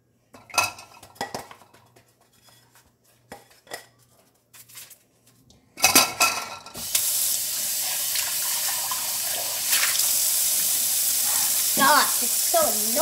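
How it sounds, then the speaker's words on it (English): Dishes being washed in a video game: clattering plates and cutlery at the start, then a steady rush of running water with bursts of clinking throughout. "Okay, I did the dishes again."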